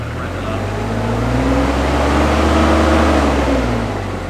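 The diesel engine of a Norcar loader runs loud and close as the hand throttle raises it, holding a steady heavy drone that swells slightly and then eases off.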